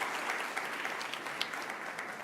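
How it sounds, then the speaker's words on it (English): Audience members at the City of South Fulton's State of the City 2025 event give a steady round of applause, the dense clapping fairly quiet and even throughout with no talk over it. "Let's give them a round of applause."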